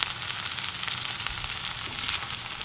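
Shrimp and steak fried rice sizzles steadily in a hot pan at an outdoor camp meal cooked from a Tacoma truck, a loud, continuous frying hiss with no talk.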